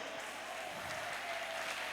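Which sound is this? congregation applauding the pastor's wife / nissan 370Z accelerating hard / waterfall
congregation applauding the pastor's wife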